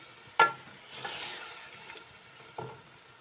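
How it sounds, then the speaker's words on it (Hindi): Peas, carrots and potatoes fry in a pan for a vegetable biryani: a sharp clack of a spoon, then a soft hiss of frying and a few quieter stirring knocks, faint and close, without speech. "मटर, गाजरें और अपने आलू। अब हम इनकी अच्छी तरह से करेंगे भुनाई 5 मिनट तक।"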